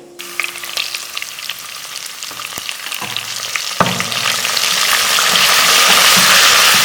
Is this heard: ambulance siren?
no